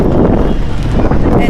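Strong wind buffets the microphone outdoors near a stone church and plaza in Sa Pa, Vietnam, a loud continuous low rumble filling the whole clip.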